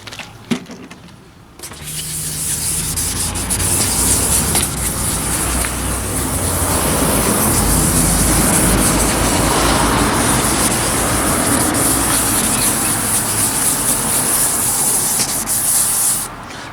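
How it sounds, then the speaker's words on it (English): Wet/dry sandpaper rubs across a faded, fogged car headlight lens in a loud, continuous gritty scraping that starts after a brief pause and holds steady for about fifteen seconds before easing off. "And you really want to use a wet dry sandpaper."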